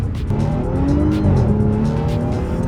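A high-mileage Audi car accelerates hard through a corner, its engine drone loud and steady with rising and falling tones as it pulls through the bend, close to the cabin.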